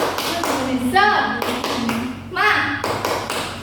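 An Indonesian Qur'an and Hadith class does a rhythmic clapping chant as an ice-breaker. Sharp taps and claps come in short patterned bursts, close and fairly loud, mixed with children's chanting voices.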